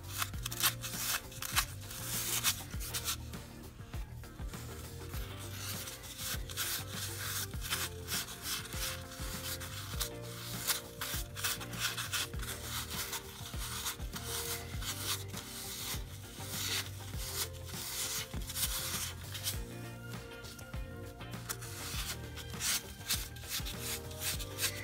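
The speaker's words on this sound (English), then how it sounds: "You're gonna mix that in with the sand till you get the texture you're really looking for." Sand gets stirred into a paste of acrylic and wallboard compound, a steady gritty scraping and rubbing that runs on continuously, close up, with no talking.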